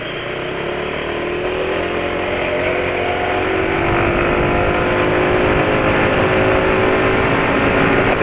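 A motorcycle accelerates hard during a top speed run, its engine droning loudly and steadily with rising pitch, buffeted by heavy wind rumble, no voices.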